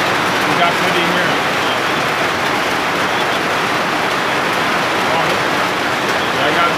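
Steady, dense rain hiss fills the clip, loud and continuous without pause.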